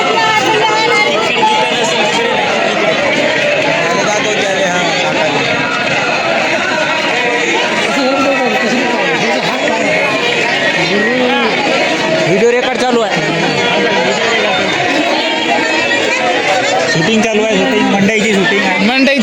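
Dense crowd chatter fills a village vegetable market in Bharnoli, a steady hubbub of many overlapping voices at close range with no pauses, loud and continuous throughout.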